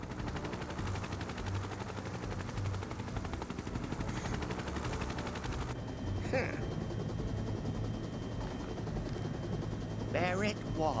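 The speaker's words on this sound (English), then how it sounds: "Those helicopters drop off people from Costa del Sol straight to the gold saucer." Helicopters in the video game Final Fantasy VII Rebirth give a steady, loud rotor chop and engine drone throughout, with sharp bursts that sound like gunfire; a voice talks over the background at the end.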